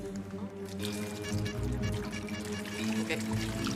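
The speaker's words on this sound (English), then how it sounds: "All right, just pour the liquid till I tell you to stop," Liquid poured steadily for a chemical reaction experiment, a continuous splashing stream over a low background hum, close and moderately loud.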